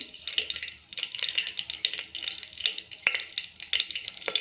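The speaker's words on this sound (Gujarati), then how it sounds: "ખડા મસાલાને તેલમાં થવા દઈશું।" Whole spices crackle and sizzle in hot oil in a pot over a high flame for a chhole pulao, a steady, busy frying hiss with dense popping close up and no voices.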